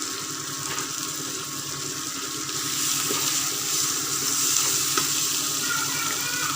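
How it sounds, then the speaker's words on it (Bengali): Spice mix of salt, turmeric, cumin powder and chilli powder frying in a pan while being stirred, a steady loud sizzle with occasional scrapes and taps of the spoon. "ভালো করে মশলাটা ভেজে নেব"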